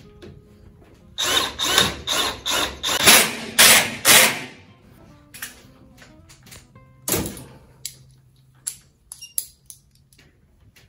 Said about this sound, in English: just put a few screws in there